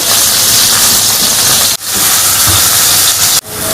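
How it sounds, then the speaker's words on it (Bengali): Steady, loud hissing sizzle of carrots and beans frying in ghee, continuous broadband crackle with two brief drops where the pan noise momentarily cuts out. "ঘি দিয়ে দিয়েছি এর মধ্যে দিয়ে দেবো সবজি"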